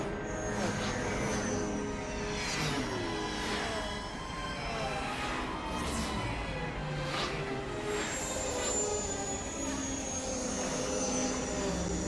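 Spaceship touching down on Telos in KotOR II: The Sith Lords, a loud continuous engine roar with sweeping whooshes and rising and falling tones as it descends, no voices.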